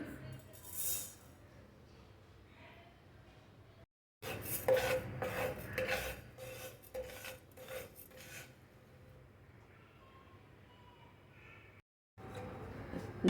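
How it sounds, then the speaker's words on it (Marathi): Cumin seeds dry-roasting in a pan for niger seed (karale) chutney, with raspy scraping and stirring strokes in uneven bursts, close and moderately loud, and two brief silent gaps. "आपण जिरं चांगलं परतून घेऊया"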